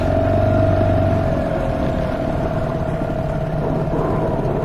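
A pontoon boat's motor drones steadily and close on a river, with a constant low hum and a faint whine that stay even throughout.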